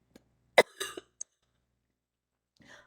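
A few short, sharp coughs and a throat clear close by from a sick person, separated by silence, with a softer rasp near the end.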